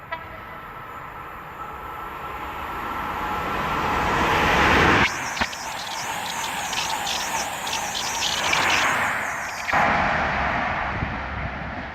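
A train passes at speed on the Great Western Main Line at Slough, its rush swelling over a steady bed of insect chirping, then a loud burst of wheel and air noise for several seconds before falling back.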